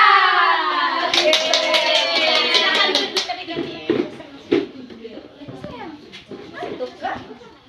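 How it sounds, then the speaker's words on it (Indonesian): Children do a rhythmic spirit clap in a group, sharp patterned claps mixed with loud chanting voices, then scattered claps and chatter as the chant winds down. "Tepuk semangat"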